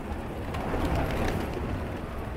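Lalband pigeons coo softly and continuously among a flock in a pigeon showroom, a low murmuring texture with steady background noise.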